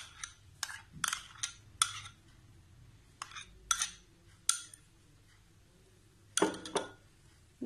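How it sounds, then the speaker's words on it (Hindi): A spoon clinks and scrapes against a bowl while cream cheese and mayonnaise sandwich filling is mixed, giving a series of quiet, close, irregular taps and scrapes. "मिक्स कर लेंगे, अच्छी तरह मिक्स कर लेंगे इसको।"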